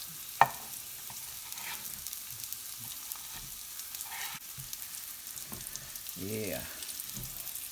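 Black bean and lentil burgers and sliced mushrooms frying in a pan, a steady soft sizzle throughout with a few scraping stirs and a brief spoken word near the end.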